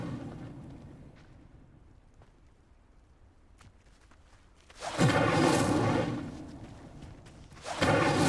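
An Incendio fire spell ignites a pyre in Hogwarts Legacy with a sudden loud whooshing burst of flame after a quiet stretch, then a second burst begins near the end.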